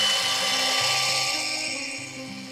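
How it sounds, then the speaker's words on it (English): A RIDGID 18V Gen 5 brushless cordless belt sander runs at close range, a steady high whining drone over a pulsing low rumble, slowly fading toward the end. "this one here is a Gen 5 brushless RIDGID belt sander"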